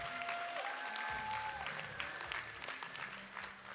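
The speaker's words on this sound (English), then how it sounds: "Big round of applause for all of our new partners' first meeting." Audience applause at a company division meeting on Marco Island welcoming new partners, a continuous wash of clapping with a few whoops and faint tonal voices mixed in, fairly distant and moderate in level.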